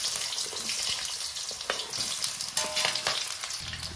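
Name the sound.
potatoes frying in oil with nigella seeds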